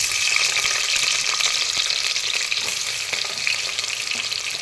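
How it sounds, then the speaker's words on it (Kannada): Onions frying in hot ghee, a loud, steady broadband sizzle that holds for the whole stretch with faint stirring clicks, close by and with no voices. "ತುಪ್ಪ ಕಾಯ್ದಿದೆ. ಈಗ ಈರುಳ್ಳಿ ಹಾಕ್ತಾಯಿದ್ದೀನಿ."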